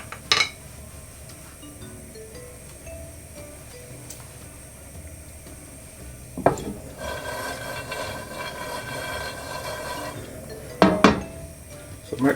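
Peanuts shaken and toasted in a pan, with soft scraping and rattling of nuts across the metal and a few sharp clinks and clatters standing out, fairly quiet and close, without speech.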